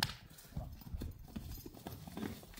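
Hooves of young horses and foals clip-clop in a rapid, uneven patter at a livestock sale, fairly close, with low stamping and shuffling under the steps and no voices.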